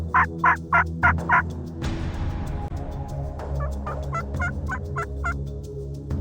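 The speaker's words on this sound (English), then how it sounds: "And from the left comes this gobbler." A wild turkey gobbler gobbles repeatedly, a quick run of about five rattling calls at the start, then another rapid burst later, fairly close outdoors with no talk.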